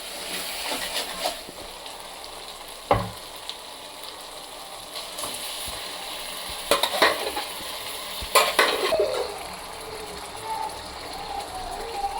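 A tomato mixture sautés in a pan under a soft, continuous sizzle, broken by repeated scraping and clacking spatula strokes that come in small clusters.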